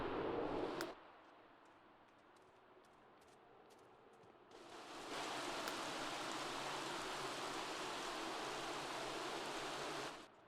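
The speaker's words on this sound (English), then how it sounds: "it's a pleasant evening, and it's raining outside" Steady rain falls outdoors in The Sims 3 video game as an even, hissing wash of noise. It is soft at first, then swells partway through into a louder, fuller downpour that carries on before cutting off.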